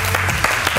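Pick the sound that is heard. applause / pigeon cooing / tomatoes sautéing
applause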